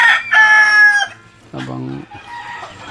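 A rooster crows loudly and close by, then a shorter hen-like call follows among other chickens, with faint farmyard background between calls.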